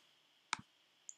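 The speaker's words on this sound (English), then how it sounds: "Clicking on the store." A single sharp computer mouse click, faint and close, followed by a softer second tick, during Animal Jam play in an otherwise quiet room.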